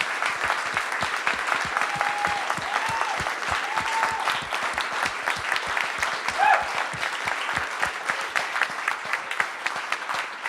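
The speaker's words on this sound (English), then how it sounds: "Everybody give them a round of applause." Steady applause from a conference audience at a coaching recognition event, sustained dense clapping throughout with a voice briefly heard over it.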